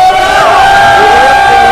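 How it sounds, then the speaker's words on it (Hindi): A crowd at a Bhojpuri song launch event cheering, whooping and shouting loudly and continuously for a short burst, dense and close, with no distinct individual voice standing out. "जोरदार तालियां और हल्ला एकदम"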